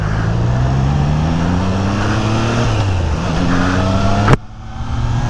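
A BMW car passing by on a road, heard from a rider on a Triumph Trident 660, the steady engine drone rising and shifting before a sharp bump and a quieter tail, no talk.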